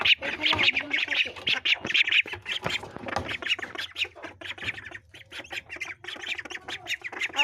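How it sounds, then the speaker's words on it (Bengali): A flock of ducks in their coop quack and squawk in a busy, overlapping chorus, loud and close, with a faint voice now and then. "এই যে দেখেন এখানে হাঁসগুলো থাকে"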